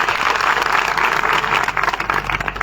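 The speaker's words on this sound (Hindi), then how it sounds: "तालियां बजाओ" A crowd claps steadily at a Lodhi community conference in Pichhore, a dense wash of applause that holds for a few seconds.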